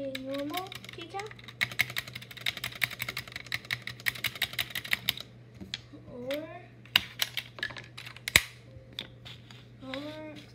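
Keycaps on a gaming keyboard clack in fast, crisp bursts of typing, with a few heavier space bar thuds and one sharp loud click, close and clear over a low steady hum, with a brief voice at times.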